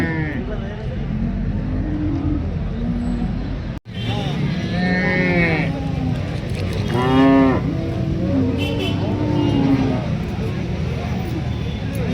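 Several loud cow moos ring out near the listener at a cattle market in Alephata, long bellowing calls spread across the clip, with people talking in the background throughout.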